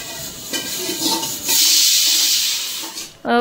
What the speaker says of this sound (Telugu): ఇప్పుడైతే తాలింపు వేసుకుంటున్నాను శనగలకి